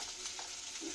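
Onions frying in a pan while being stirred, a brief soft sizzling hiss with faint scraping, quiet and without speech.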